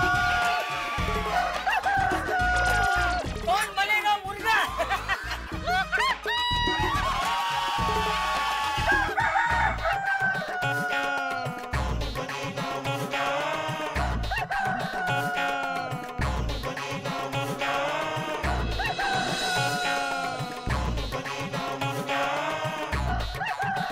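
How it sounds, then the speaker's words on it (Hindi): A rooster crows loudly several times in long, wavering calls. The calls mix with clucking and other fowl sounds, with some voices and noise underneath. "मुर्गा"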